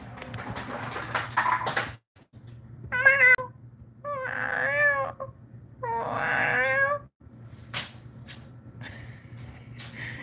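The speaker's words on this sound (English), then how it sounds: "reacts to any kind of cat noise." Recorded cat meows play back in a room: three drawn-out, wavering meows in a row, fairly loud and close, with a steady hum and a few knocks between them.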